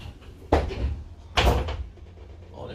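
The middle door of a Mercedes O 530 G articulated bus slams shut twice with loud, sharp bangs about a second apart, each followed by a short rattling thud.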